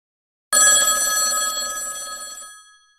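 A telephone bell rings once in a single sustained metallic burst that fades away over about two seconds, loud and close.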